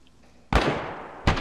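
Two sharp, loud gunshots in an online shooting game, spaced less than a second apart, each with a booming echoing tail, over a quiet background.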